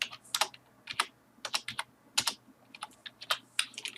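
Fingers tapping on a computer keyboard while entering a routing configuration in a CCNA network lab: a quick, irregular run of crisp, close keystroke clicks with short pauses, no voices.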